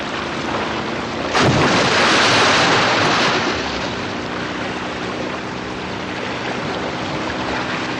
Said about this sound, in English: Breaching like this, jumping clear of the water and re-entering with a loud splash